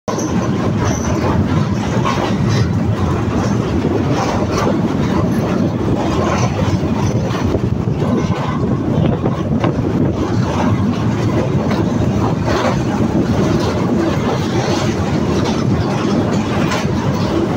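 Continuous loud train rumble as the Benapole Express crosses the Gorai rail bridge over the Gorai River in Kushtia, Bangladesh, with dense rhythmic rattling of wheels over the tracks, steady throughout, heavy low-end roar.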